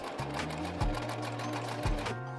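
Sewing machine stitching rag quilt squares, a steady motor whir with rapid needle chatter running throughout, close and clear, with two brief louder thumps along the way and no talking.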